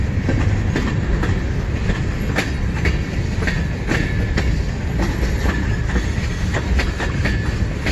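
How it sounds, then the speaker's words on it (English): Freight train rolling past at a meet on a line in Emmett, Michigan, a loud steady rumble with rhythmic clickety-clack of wheels over rail joints and a faint squeal, close by and continuous throughout. "So we're seeing M496 meeting white eastbound train meeting CN Z149 westbound train"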